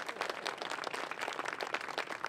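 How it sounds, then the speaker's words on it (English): A crowd applauds at a tower lighting ceremony in Fort Worth, a steady patter of many hands clapping, fairly faint and distant, with no voices. "I'll take an applause."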